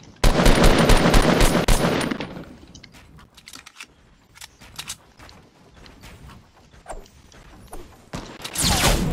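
Rapid bursts of automatic gunfire hit the player in Fortnite, with loud dense volleys at the start and end and scattered single shots in between.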